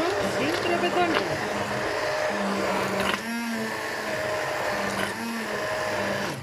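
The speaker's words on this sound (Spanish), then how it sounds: "ahora le vamos a dar con la batidora" A hand blender purees vegetables into a pâté, its motor whining loudly and shifting in pitch as it starts, stops and restarts, with a voice partly audible over it.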